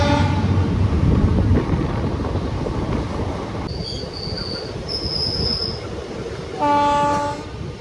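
Nagercoil–Kottayam Express train rolling along with heavy low rumble and wheel noise, a high steady squeal of wheels coming in midway, then a loud horn blast near the end as the train slows before a tunnel.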